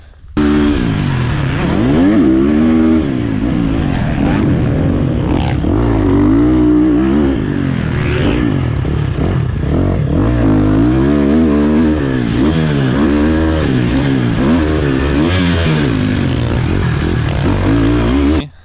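Dirt bike riding fast through a series of corners, the engine loud and close throughout, revving and easing off repeatedly as it brakes and accelerates, with a brief voice at one point.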